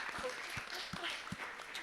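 An audience at an Earth Day panel on ecological art claps for Rauschenberg, a modest spatter of applause with a few distinct claps, heard faintly.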